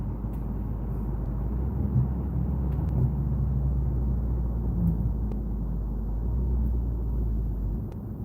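A steady, deep engine rumble from a modified, non-stock car drones continuously, loud and low, with a rough throaty tone and no talking.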